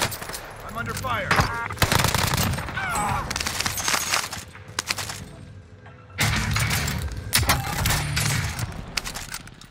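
Bursts of automatic gunfire from a Warzone firefight with an MP40 submachine gun, rapid volleys coming and going loudly across the clip with short lulls between them, mixed with game voice chatter.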